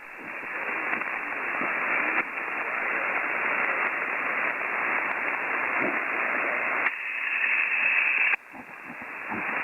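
Amateur radio static on the 40 meter band gives a loud, steady hiss that shifts abruptly in level a few times and drops out briefly near the end.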